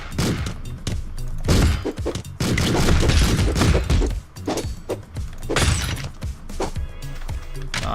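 Gunfire in the top-down game Streets of Rogue: a dense run of loud, punchy shots and crashes in irregular bursts, with short gaps between clusters.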